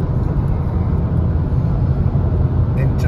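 A Ford Focus 2.0 TDCi diesel car engine pulling in fourth gear, a steady loud low drone of engine and road noise heard from inside the cabin.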